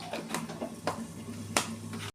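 Black cumin seeds hit hot oil in a wok, giving a run of sharp crackling pops and sputters over a steady low frying hiss. The sound cuts off abruptly near the end.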